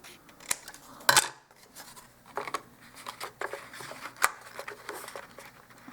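Scissors cutting material to size for a dollhouse miniature fireplace: a series of close, crisp snips and rustles, one loud sharp cut near the start, and softer scraping between them.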